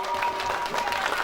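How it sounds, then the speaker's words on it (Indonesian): Brief audience applause at a santri arts stage show in an Indonesian Islamic boarding school, a dense crowd wash of clapping with faint voices mixed in. "Mana tepuk tangannya Bapak Ibu?"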